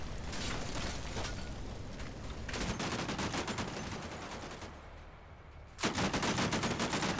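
Heavy machine gun fire from a Syrian bunker in the tactical war game Combat Mission Shock Force 2, rapid sustained bursts rattling loudly, briefly thinning before a fresh intense burst resumes near the end.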